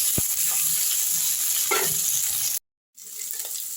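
Diced potatoes frying in a pan with onion and curry leaves, a steady close sizzle with a few stirring scrapes, cut by a brief silent gap before the sizzling resumes.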